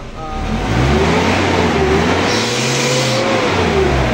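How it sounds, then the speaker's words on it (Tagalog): A Nissan Navara engine with low power revs up under load, with a rising turbo whine and whistle layered over the rough, mid-pitched motor roar. "yung tumutunog, yun? Turbo."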